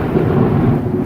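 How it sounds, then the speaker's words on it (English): Deep thunder from a thunderstorm rolls continuously around a house, a loud low rumble sustained for the whole moment with faint rain beneath it. "God, why is this house so good for storms?"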